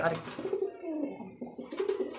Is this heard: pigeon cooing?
yes